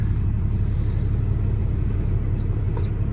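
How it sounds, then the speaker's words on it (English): Trucks arriving at a loading dock produce a steady, loud, low engine rumble that stays constant throughout, with no talking. "There's trucks blazing in all over the place here."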